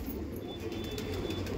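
A Saharanpuri crunch pigeon coos softly, low murmuring calls sitting close but faint against a quiet background.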